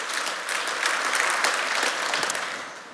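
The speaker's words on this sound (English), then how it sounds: "Give yourselves a hand of applause, everybody." A keynote audience at a tech conference breaks into applause, a dense wash of clapping that holds steady and then begins to fade toward the end.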